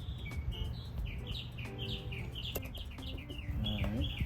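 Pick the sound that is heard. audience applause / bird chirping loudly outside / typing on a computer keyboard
bird chirping loudly outside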